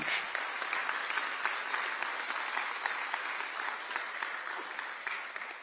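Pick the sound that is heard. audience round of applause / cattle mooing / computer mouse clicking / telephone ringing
audience round of applause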